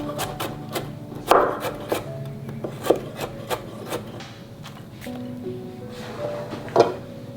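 A knife slices a carrot thinly on a wooden cutting board, giving a string of crisp cuts with a few louder chops spaced through a light kitchen background.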